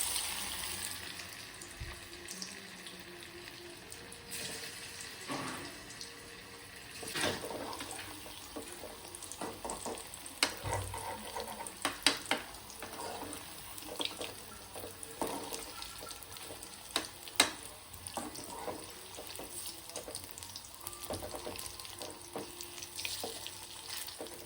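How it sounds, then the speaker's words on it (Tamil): Crispy batter-dipped chicken frying in hot oil, a steady loud sizzle with scattered sharp crackles and pops throughout, with no voices. "இப்போ ஆயில் வந்து நல்லா ஹீட் ஆயிடுச்சு. நம்ம போட்டுடலாமா? இந்த லேஸில் டிப் பண்ணி வச்சு இந்த கிறிஸ்பி சிக்கன் எடுத்து இப்படி போட்டுடலாம்."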